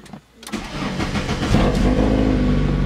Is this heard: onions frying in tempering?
no